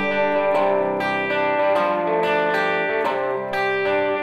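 An electric guitar runs through a TS-style overdrive pedal, with sustained, slightly gritty chords struck roughly every half second in a steady strumming rhythm, loud and close with no talking.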